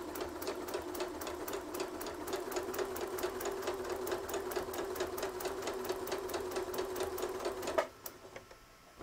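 A long arm quilting machine stitches a Santa cookie rug with a steady, rapid mechanical chatter that runs evenly for several seconds, then stops abruptly and leaves a faint hum.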